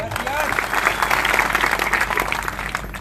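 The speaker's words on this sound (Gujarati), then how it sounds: "એના માટે જોરદાર તાળીઓ પાડો" An audience at a community gathering breaks into sustained, loud clapping that fills the scene evenly from start to finish, with crowd noise mixed in.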